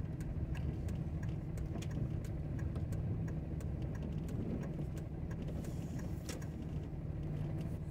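A single car's engine rumbles steadily on a road near the Arivaca Creek trailhead in Buenos Aires National Wildlife Refuge, Arizona, a low continuous drone heard at a moderate distance in open air, with faint ticking above it.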